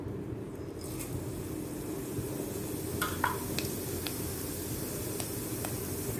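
Cumin seeds sizzle in a big spoonful of hot cooking oil for Indian rajma, a steady close crackling hiss with a few faint clinks and stirring taps over it.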